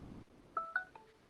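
Telephone keypad tones dial star six to unmute a caller joining a community board monthly meeting by phone: a few short, clean two-tone beeps in quick succession, fairly quiet, with no talking over them.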